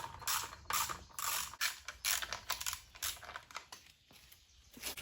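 Bolts are threaded in to fasten the flywheel back onto a Hangkai outboard motor, making close, irregular metallic clicks and ratcheting scrapes in short uneven bursts.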